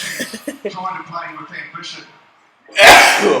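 A person talks briefly, then after a short pause comes one loud, sharp sneeze close to the microphone.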